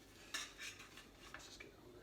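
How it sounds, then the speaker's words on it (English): A fork scrapes and clinks against a pan and plate while lifting crispy panko-coated spicy bean burgers, several light metallic taps and scrapes, soft and close. "Just going to take a fork. We'll get them on a plate."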